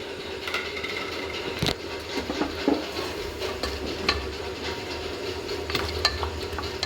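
Whole spices fry in a pot for beef curry, giving a continuous low sizzle with light scraping stirs and occasional soft clicks throughout, close and fairly even.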